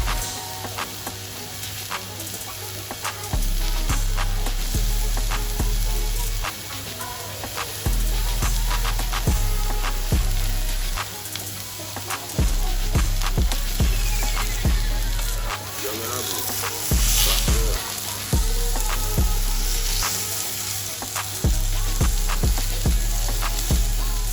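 Chilli garlic butter prawns frying in a pan, a steady close sizzle with crackling pops that runs through the whole stretch, with a low hum cutting in and out underneath.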